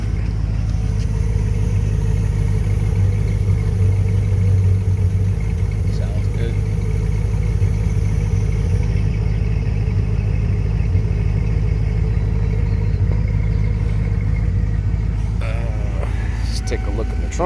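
A 1992 Lincoln Mark VII LSC idles close by after a cold start, a loud, steady low engine hum with a slight rise early on, while someone talks over it.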